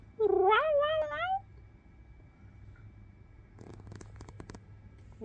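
A cat lets out a loud, drawn-out meow, followed by quiet background rustling and a few soft clicks.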